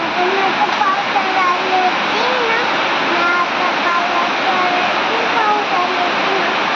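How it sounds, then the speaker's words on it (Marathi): Heavy rain pours down outside in a loud, steady, unbroken roar while voices talk faintly beneath it. "पाऊस आलाय."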